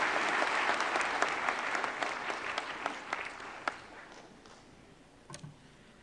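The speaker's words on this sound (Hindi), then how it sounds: "तालियों से स्वागत करें माननीय मंत्री महोदय का" An audience at a national crafts award ceremony presided over by India's Vice President applauds to welcome a minister. The clapping starts full and steady, then thins and fades to a few scattered claps.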